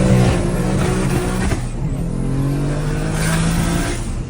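Loud, close engine note of a BMW S55/S58 straight-six through an equal-length exhaust, holding a steady droning tone with a brief dip and slight rise in pitch as it passes.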